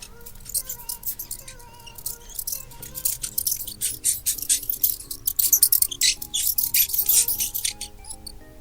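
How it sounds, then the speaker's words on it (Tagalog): A mouse squeaks in rapid, high-pitched chirping bursts that come in irregular clusters and grow busier midway, over a soft steady tonal backing. "Pakinggan natin ang huni ng daga."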